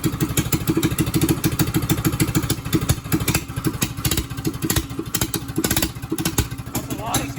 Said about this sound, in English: it's a little loud with the muffler